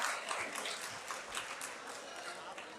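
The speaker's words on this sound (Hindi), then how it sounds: "भरपूर तालियां बजाइए अम्मार इकबाल के लिए" Applause from the audience at an Urdu mushaira poetry recital, a continuous, fairly quiet and somewhat distant patter of many hands clapping, with a voice speaking over it.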